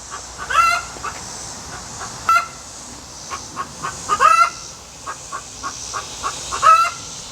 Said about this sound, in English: Chickens are gonna holler,